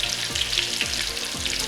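Chicken pieces frying in hot oil give a steady, dense sizzle throughout, with a few faint low thumps underneath and no talking.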